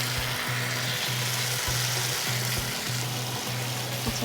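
Ground almond paste sautés in a pan for navratan korma, giving off a dense, steady sizzle close up, with a rhythmic pattern of repeated stirring strokes throughout.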